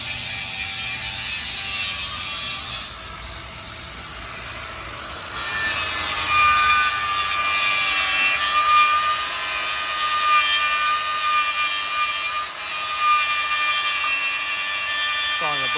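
Hand tools install a burst panel on a Subaru in a shop, with repeated ratcheting clicks and scraping, rubbing mechanical sounds over steady background noise.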